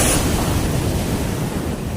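Sea waves wash steadily at a fishing spot with choppy water, a continuous broadband surf roar with wind noise on the microphone, loud and unbroken for the whole stretch with no talking.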